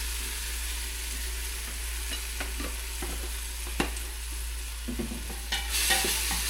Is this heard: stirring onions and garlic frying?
yes